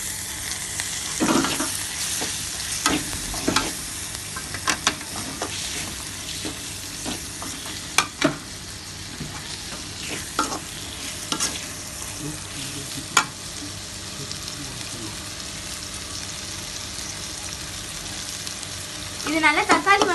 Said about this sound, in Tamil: நல்லா மசிஞ்சு வர மாதிரி வதக்கி எடுத்துக்கணும்